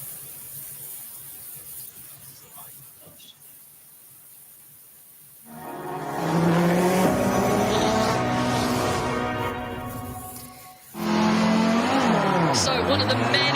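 An Audi rally car at Goodwood roars loudly nearby on the Forest Rally stage, its engine revving and rising in pitch over two long passes, with a calmer stretch of background noise before them.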